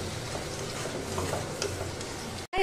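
Garlic and tomato paste with ground coriander, cumin and chili sizzles in a pan for a rajma dal, a steady close crackle with light stirring, then a brief cutoff near the end.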